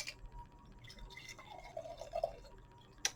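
A small splash of mead is poured into a glass, faint trickling and dripping in a quiet room, ending with a light clink.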